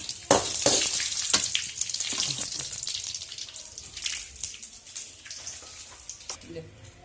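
Hot tempering poured into a Kerala pineapple pachadi curry gives a sharp burst of crackling sizzle that fades into softer bubbling and stirring, close and moderately loud.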